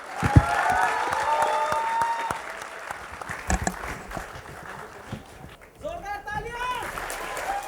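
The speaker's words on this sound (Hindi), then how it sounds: "सर के लिए जोरदार तालियां हो जाए एक बार।" Students in the audience at a talk give the speaker loud applause, sharp claps crowding together and tapering, with a speaker's voice heard over the clapping.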